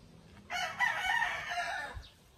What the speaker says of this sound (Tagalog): Napakatangkad ng mga manok na ito mga boss.